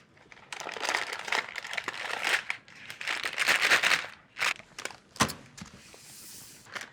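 A paper bag crinkles and rustles up close as bread dough is placed inside, with irregular bursts of crisp crackling that rise and fall over several seconds.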